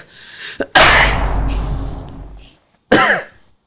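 A heavy, raspy cough erupts up close and drags on for nearly two seconds, then a second shorter cough follows after a brief pause.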